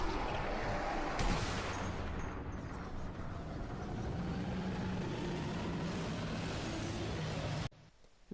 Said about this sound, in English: armed with an MG42 and a helmet that is impenetrable to explosions and bullets, will mow you down like none other